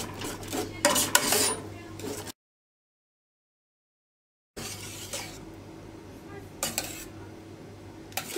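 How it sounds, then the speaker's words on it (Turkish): Milk chocolate and butter are stirred quickly as they melt, with close clinks and scrapes of a spoon against a bowl. A stretch of complete silence cuts the stirring in the middle. "Çikolata ve tereyağı eriyene kadar hızlıca karıştıracağım."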